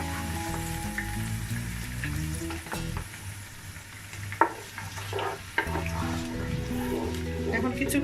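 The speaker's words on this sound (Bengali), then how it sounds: "এখন কিছুক্ষণ আমি পেঁয়াজটা কষিয়ে নেব" Onion paste frying and sizzling in a pan for a beef curry with new potatoes, a steady sizzle with occasional stirring knocks beneath background music.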